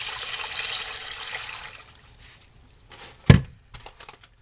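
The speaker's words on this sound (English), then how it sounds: "We're going to add water." Water pours steadily into a pot of leftover turkey bones and vinegar for bone broth. The pouring fades after a couple of seconds, followed by a sharp single thunk and a few soft knocks.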